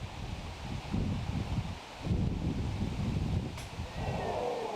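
Gusty wind buffeting the microphone outdoors at a disc golf course during a tournament round, a steady rumbling roar with rustling, rising and falling in strength, no talk.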